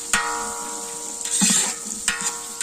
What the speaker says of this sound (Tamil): ஓகே, இது இப்போ நல்லா பொரிய ஆரம்பிச்சிருச்சு